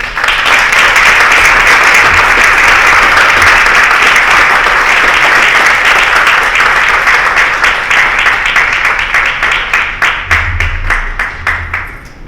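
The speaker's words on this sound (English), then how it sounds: "Please give them a round of applause as they make it to the stage." Audience applause as guests reach the stage at a Wichita event, a sustained loud wash of clapping that fades and thins out toward the end.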